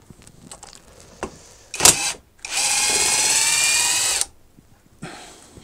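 A Metabo SSD 18 LT 200 BL cordless impact driver fires a short burst, then hammers loudly and steadily for about two seconds before stopping, with faint clicks and handling around it.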